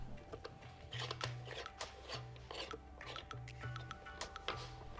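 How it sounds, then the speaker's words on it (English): Metal tool twisting open the screw-on back cover of a Fossil watch, giving a close, soft scraping and rasping with small rhythmic grinding turns and faint clicks throughout. "just put the tool on the watch, adjust it, apply pressure, and unscrew"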